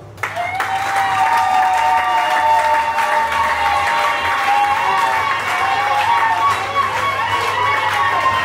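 Church congregation in Douala claps and cheers steadily at a couple's consecration as a brother is introduced, a dense, loud wash of applause and voices that keeps up throughout with a faint hum underneath.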